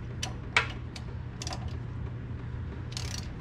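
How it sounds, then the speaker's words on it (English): A ratchet with an 8mm socket works on the drive shaft bolts at the pinion yoke of a Jeep TJ, giving a few quick clicking bursts close by over a low steady hum. "to get the rear of the drive shaft off of the pinion yoke, it just takes an 8mm socket"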